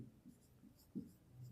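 Pen writing on paper during a math lesson, with a few soft, short scratching strokes at close range, faint and alone with no talk.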